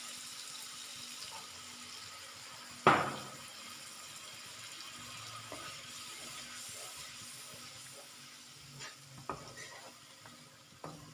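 Water poured into a pan of chicken masala for a chicken salan hits with a sudden loud splash and sizzle, then settles into a soft, steady simmer with faint stirring and small clinks.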